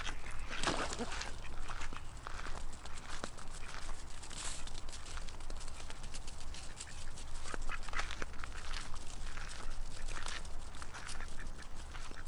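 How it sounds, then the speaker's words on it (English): An old black duck quacking in bursts of short, raspy calls, with scuffling and other background noise around it. "He's this crazy old black duck again."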